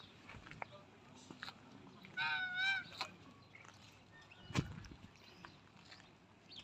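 Goose-like bird giving a single loud nasal honk at mid-distance, with small scuffs and faint nearby sounds around it and no talking.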